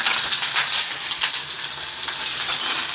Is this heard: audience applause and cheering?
no